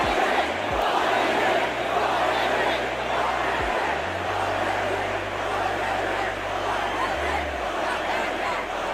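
A large concert crowd in Birmingham at a show chants in unison, a dense, loud roar of many voices that keeps up the whole time with low music beneath it.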